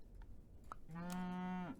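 A single drawn-out cow moo from the Super Auto Pets video game, quiet and alone after a few faint clicks.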